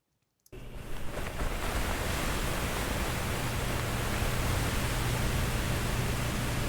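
An ordinary sound processed with a Space Modulator effect, giving a dense, steady rushing wash like a waterfall; it bursts in abruptly after a brief silence and then holds at an even level.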